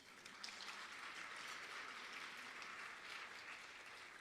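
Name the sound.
audience applause at awards ceremony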